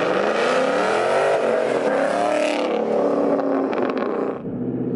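A 2013 Ford Mustang GT California Special revs hard, its engine note climbing and sweeping loudly in pitch before dropping off sharply near the end, with no talk over it.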